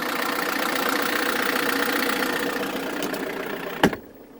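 A bus engine idles with a whirring fan layered over a low, steady rumble, close and fairly loud, then cuts off with a sharp click and drops to near silence.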